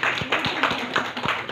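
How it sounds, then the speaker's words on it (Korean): A short burst of clapping at a Christmas church service, a few hands beating out a quick, regular rhythm at close range. "우리 한번 박수로 환영하겠습니다"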